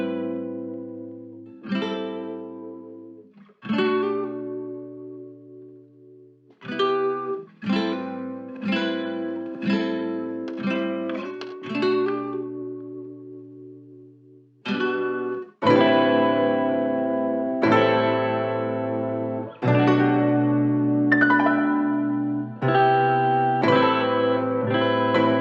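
Acoustic guitar, electric guitar and piano chords played together for a vintage-style sample, starting sparse with separated plucked chords and filling out into a denser, louder layered passage with sustained ringing chords.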